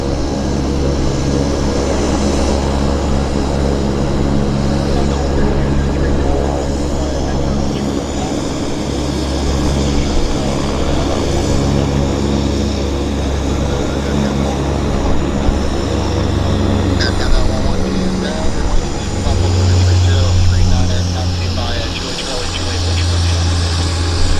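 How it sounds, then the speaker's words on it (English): A plane takes off at Vancouver International Airport, its engines a steady, loud rumble that holds for the whole stretch, with a low roar rising near the end. A voice can be heard faintly over the noise. "Decent takeoff"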